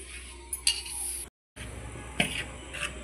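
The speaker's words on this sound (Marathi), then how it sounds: "आणि सगळं मिक्स करून घ्यायचे." Batter for kombdi vade, mixed with kasuri methi in a bowl, is stirred by hand with soft scraping and a few utensil clinks against the bowl, close and fairly quiet, with a brief silent break.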